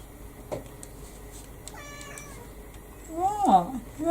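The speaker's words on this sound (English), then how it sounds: "Can you hear my cat?" A pet cat meows near the door, wanting to come in: faint at first, then a louder, drawn-out meow toward the end over quiet room tone.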